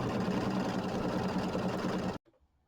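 An embroidery machine stitching a fill stitch runs with a steady, fast mechanical whir and needle rattle, close and continuous, then stops abruptly.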